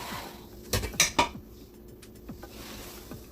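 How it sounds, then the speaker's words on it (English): A cooking pot set into an Instant Pot gives a few close metallic clunks and knocks in quick succession, followed by faint handling rattles. "let's put it in the Instant Pot"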